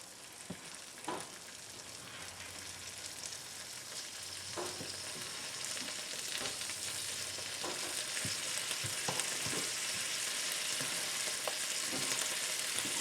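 Omelet eggs cook on a hot griddle, giving a continuous, steady sizzle that builds a little over time, with occasional soft clicks and scrapes and no talking.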